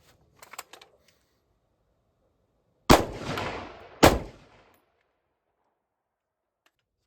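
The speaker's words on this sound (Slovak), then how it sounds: "Pozor, strieľam." Two sharp, loud rifle shots fired about a second apart outdoors, the rifle fitted with a homemade muzzle brake with enlarged upper ports, each blast ringing briefly before fading to quiet.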